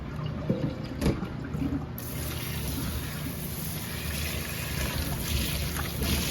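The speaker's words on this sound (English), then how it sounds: "Give the potatoes a really good rinse." Potatoes are rinsed in a pot in a home kitchen. Steady running and sloshing water fills the whole stretch at moderate loudness, with a few brief knocks near the start.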